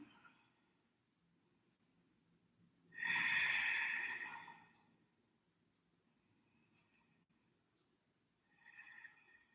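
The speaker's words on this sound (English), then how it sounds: "Try and keep your Ujjayi breath going." Ujjayi yoga breathing, one long, soft, breathy exhale through the throat heard alone in a quiet room, followed later by a fainter second breath.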